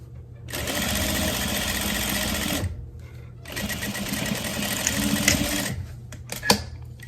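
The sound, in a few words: sewing machine stitching satin and lace top edge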